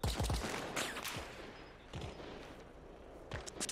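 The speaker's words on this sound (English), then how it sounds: "What the fuck are they shooting at?" Rapid gunfire bursts in the WWII-themed video game Arma Reforger, several sharp shots close by early, then scattered distant fire.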